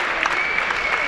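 A gym crowd at a women's college basketball game, Ohio Christian versus UC Clermont, gives a standing ovation, a brief steady burst of dense clapping with a murmur of voices.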